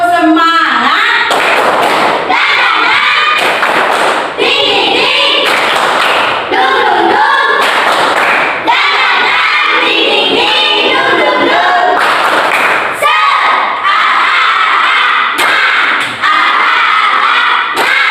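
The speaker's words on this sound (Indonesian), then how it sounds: "Oke, tepuk semangat." A school class does a rhythmic spirit clap, chanting loudly together as sharp claps and thumps land at intervals through dense, overlapping voices.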